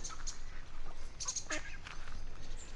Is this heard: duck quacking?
yes